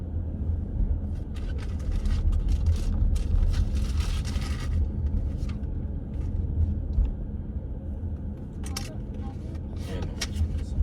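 Family car driving across the Canada–US border, a steady low road rumble from inside the vehicle with occasional rattles and scrapes, and people talking over it.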